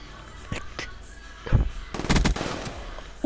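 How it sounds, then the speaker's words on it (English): Gunshots in a bot-match video game shooter, a few sharp bursts scattered over a quiet game ambience, with one heavier shot and a cluster of rapid cracks near the middle. "I'm just gonna shoot one out the window"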